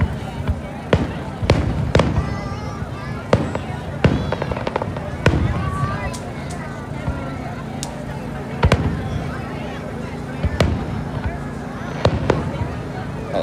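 Fourth of July fireworks at North Cape May pop and thump in scattered single and double bursts, moderately loud and at varying distance, while people chat nearby under the explosions.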